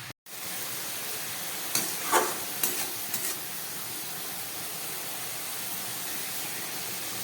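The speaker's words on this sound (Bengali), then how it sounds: "লাউটা ফুটে উঠেছে" A Bengali bottle gourd ghonto curry simmers in a pan, a soft steady hiss and bubbling with a few brief clinks and scrapes early on, then an even, quiet simmer alone.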